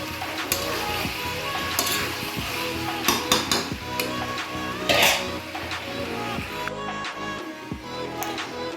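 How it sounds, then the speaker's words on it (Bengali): Chicken and potatoes being stirred in a cooking pot: repeated scraping and clanking of a utensil against the metal, over a soft sizzle, close and fairly loud. "একটু নাড়িয়ে দেবো। 5 মিনিট মতন নাড়াবো আলু দেওয়ার পরে।"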